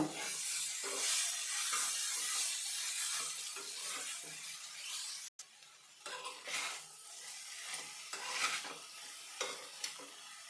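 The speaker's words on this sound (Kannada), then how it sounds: "ಉರಿನ ಕಮ್ಮಿ ಇಟ್ಕೊಂಡು ಮೀಡಿಯಮ್ ಮುರಿಯಲ್ಲಿ ಫ್ರೈ ಮಾಡ್ಕೋಬೇಕು" Pumpkin and curry leaf stir-fry sizzling on a medium flame in a pan, with a steady frying hiss and intermittent scraping stirs, a brief dropout midway, no talking.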